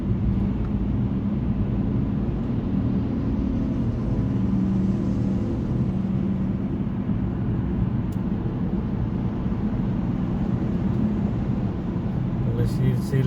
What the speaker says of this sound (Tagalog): Mga truck oh, sunod-sunod.